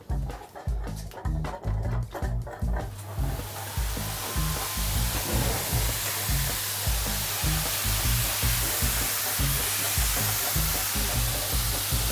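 A dryer blows on a wet Bordoodle's coat during grooming, a steady loud rushing whoosh that takes over after a few seconds of rhythmic rubbing and thumping at the start.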